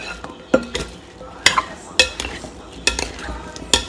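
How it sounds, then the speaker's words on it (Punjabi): Fruit chaat being stirred and tossed with pomegranate seeds and spices in a bowl, a run of soft clinks and scrapes from a spoon coming in irregular bursts, close up with no talking. "ਇਸ ਤਰ੍ਹਾਂ ਥੋੜ੍ਹਾ ਤੁਸੀਂ ਮਿਕਸ ਕਰਕੇ ਰੱਖ ਲਓ।"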